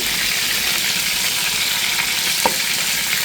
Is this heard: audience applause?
no